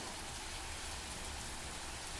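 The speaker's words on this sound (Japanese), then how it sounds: "雨だ。" Steady rain falls in a dense, even hiss of drops with no pauses, heard alone and fairly close.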